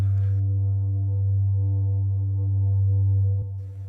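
A steady, pure electronic tone with a few faint harmonics drones evenly, then cuts off with a small click near the end.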